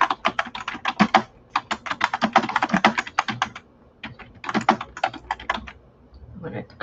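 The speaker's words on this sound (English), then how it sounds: "I'm typing it." Rapid keyboard typing, close and crisp, clicking in quick bursts with brief pauses between runs of keystrokes.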